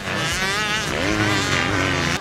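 Motocross motorcycle engine roaring continuously on a sand track, a loud revving whine that rises and falls in pitch as the bike accelerates, close and steady throughout.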